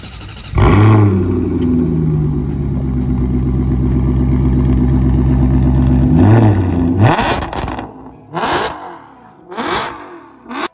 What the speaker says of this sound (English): she has a Ferrari engine and sounds like a Ferrari